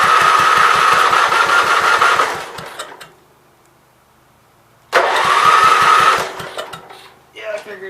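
An old 526 engine cranks with a rapid, regular chugging, stops for about two seconds, then cranks again, loud and close, straining to catch at idle throttle without settling into a steady run.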